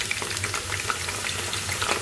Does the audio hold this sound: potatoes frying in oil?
yes